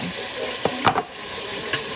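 Food sizzles steadily in a pan with a constant hiss, broken by a few brief clinks and scrapes of stirring.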